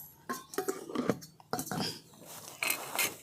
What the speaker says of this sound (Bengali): এবার আর একটু চাপা দিয়ে দিচ্ছি।